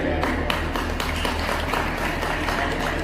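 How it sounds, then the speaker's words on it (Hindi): An audience at a girls' welfare celebration event in India applauds as participants are called forward, producing a dense, continuous wash of crowd clapping over a low background hum. "कृपया तालियां बजाते रहिए, उत्साहवर्धन करते रहिए।"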